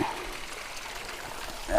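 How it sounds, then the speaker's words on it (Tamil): A thin, steady rush of water trickling down a waterfall in the Pachamalai hills, continuous at a moderate distance, soft and even with no talking. "தண்ணி சும்மா லேசாக தான் விழுது அதிக அளவில் இல்லை"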